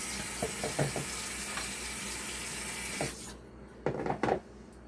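Beans being rinsed in a kitchen sink for refried beans: a faucet runs in a steady hiss, then shuts off, followed by a few close splashes and rubbing sounds as the beans are stirred.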